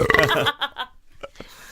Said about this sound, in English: Makes me want to burp in your ear.